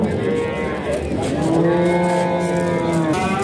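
At a livestock market in Mastchoh, a cow moos loudly nearby in a long, drawn-out call that swells in the middle and tails off, over a low murmur of market background.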